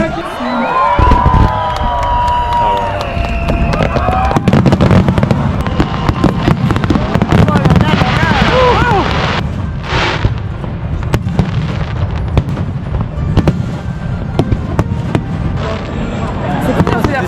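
Fireworks at a festival near Mount Fuji, a dense run of crackling bursts and pops over a cheering crowd, loud and continuous, with people talking and exclaiming close by.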